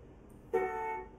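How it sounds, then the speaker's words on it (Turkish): One short honk from the horn of a VW Passat B8 mod in Euro Truck Simulator 2 sounds alone after a quiet lead-in, steady in pitch for about half a second. "Şöyle de bir kornamız var."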